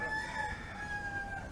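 A rooster crows faintly from a distance outdoors at Oistins, one drawn-out call over a low background rumble.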